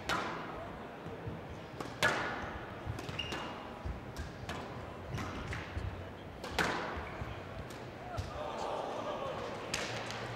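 Squash ball struck and bouncing in a professional Tournament of Champions match between King and Natalie Grinham, a string of sharp thwacks and thuds off the walls amid crowd noise and commentary, ending with a hard shot out.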